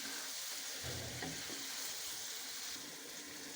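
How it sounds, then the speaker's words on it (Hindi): Mixed vegetables frying in a pan, a steady faint hissing sizzle throughout with soft stirring scrapes in the middle. "और थोड़ा सा हम इनको 1 मिनट के लिए हम इसको भून लेते हैं सब्जियों को।"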